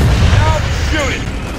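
Gunfire and booms in Gears of War 4, a dense, loud burst of shots and impacts mixed with game voices, continuous across the short span.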